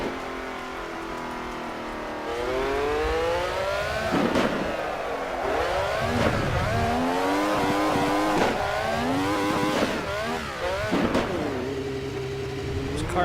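Racing car engine in a video game, revving and shifting through gears with rising and falling whine, loud and continuous as it accelerates and slows through turns.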